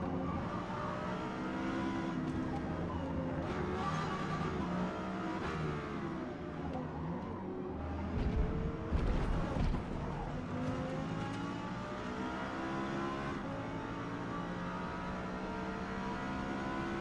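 Race cars lap the Silverstone circuit in Forza Motorsport, a Lexus LFA among them. Engines whine and rev steadily, with shifting pitch as other cars pass close by.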